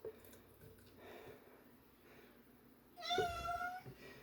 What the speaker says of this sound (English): my cat just discovered that I opened tuna